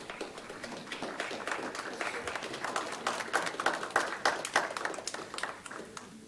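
Audience at a swearing-in ceremony and board meeting claps as a new member walks up, a fairly faint scattered patter of hands that swells slightly and then tapers, with some crowd murmur underneath.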